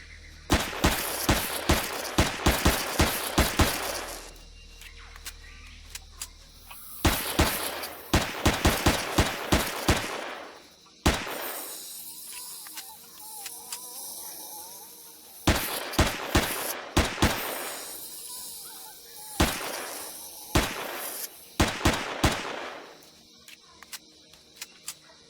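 Bursts of rapid gunfire in the sci-fi survival game Empyrion: Galactic Survival while fighting spiders, loud clustered volleys repeating every few seconds with short quiet gaps and game effects between.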